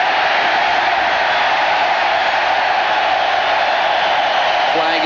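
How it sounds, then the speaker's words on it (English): A broad, steady roar rises from the football stadium crowd at Kyle Field in College Station, a vast Texas A&M home crowd of about 60,000, loud and continuous throughout, with a faint voice surfacing near the end. "You can hear the crowd getting into it."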